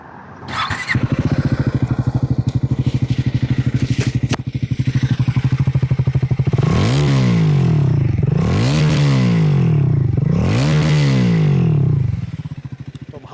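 A 2025 Triumph Scrambler 400 XC single-cylinder engine with dual muffler idles with a steady, deep thump, then revs up three times in quick surges before settling.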